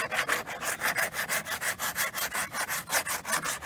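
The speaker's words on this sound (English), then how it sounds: "When I get done with all the big sanding and filing" Steady back-and-forth rasping of sanding and filing on a Corvette C3 dashboard, a rhythmic scrape roughly three strokes per second, close and loud with no talking.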